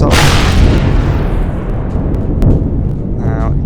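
A homing missile launches and bursts into a loud, rumbling explosion in the space survival game Empyrion Galactic Survival, the blast decaying into a long roar with a few sharper pops afterward.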